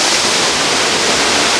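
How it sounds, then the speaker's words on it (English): Waterfall in Japan, near shrines in Aizuwakamatsu, giving a steady loud broadband rush of falling water that holds constant throughout with no voices. "Really nothing like fresh waterfall air in Japan"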